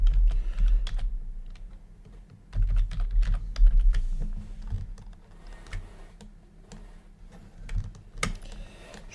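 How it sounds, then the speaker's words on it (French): Keys clatter on a computer keyboard while text is typed into a logo design in Inkscape, a close, irregular run of light taps with a few louder bursts and brief pauses. "Je fais une zone de texte et je vais taper mon texte."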